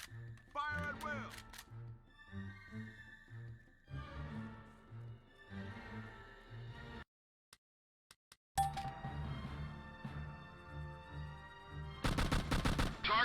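Rifle fire at targets on a firing range in Operation Flashpoint: repeated rapid shots crack out in bursts around music and voices, with a short silent gap midway and a dense closing volley.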